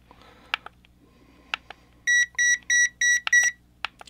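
A digital thermometer gives five quick, evenly spaced high beeps, preceded by a few sharp clicks in a quiet room.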